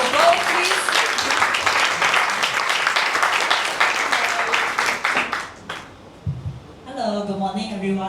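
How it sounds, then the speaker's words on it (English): Applause from the audience at a medical centre sharing session fills the room for several seconds, then fades out before a voice begins speaking over the tail of the clapping. "Give a round of applause, please."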